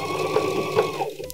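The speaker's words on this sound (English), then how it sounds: "Now that I'm at the end, I'm gonna back stitch" Sewing machine back stitching a beanie: a steady, close mechanical whir with a rapid needle rhythm that holds for about a second, then slows and stops.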